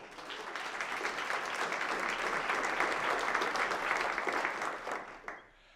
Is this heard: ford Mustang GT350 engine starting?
no